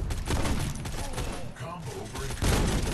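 Gunfire in the mobile shooter Guns of Boom, a rapid, continuous fusillade of loud cracks that barely pauses, dense and close, with a voice speaking over it.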